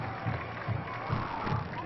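A homecoming crowd at a high school football game between North Scott and Hempstead roars steadily in the distance, a broad rumbling cheer with swells every half second or so.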